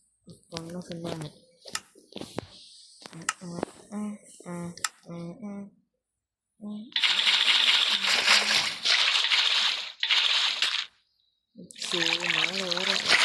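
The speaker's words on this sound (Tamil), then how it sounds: "முதல் தண்ணியை நிரப்பி விட்டுக்குமா" Water filling in the Craft World video game, a steady rushing pour that starts after a stretch of talk, breaks off briefly, then returns loud and continuous.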